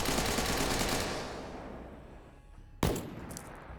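Submachine gun fire in a video game rolls as a dense, steady rattling stream that fades out, then one sharp, close shot cracks near the end.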